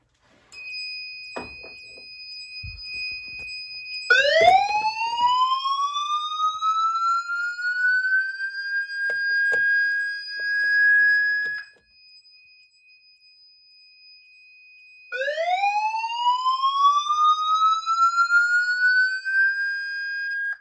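A vintage Honeywell fire alarm system sounds during a smoke detector test, loud whooping tones that sweep upward and hold steady, cut off briefly, then restart with a fresh rising whoop.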